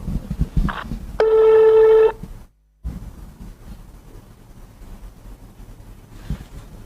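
A telephone sounds one loud, steady electronic tone for about a second, then cuts out, followed by a low background hum and faint handling noise.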